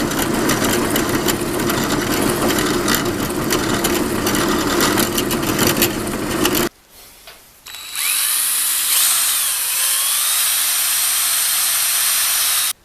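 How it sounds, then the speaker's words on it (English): A power drill bores holes in the wooden stock of a 1910s pop gun, whirring loudly for several seconds, pausing briefly, then spinning up again at a steady pitch. "I just need to drill 2 holes."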